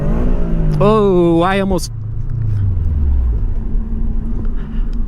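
Subaru FRS engine on a race track with a stuck clutch, revving sharply with rising harmonics before dropping to a low rumble, heard up close while someone talks over it.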